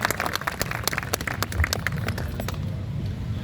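A crowd claps loudly in honour of soldiers killed at Galwan, a dense burst of applause that gradually thins and fades toward the end.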